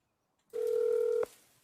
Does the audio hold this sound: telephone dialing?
yes